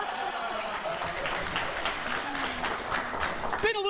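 Studio audience on a daytime talk show claps in a sustained burst of applause, with hosts' voices talking over it and a short vocal sound near the end.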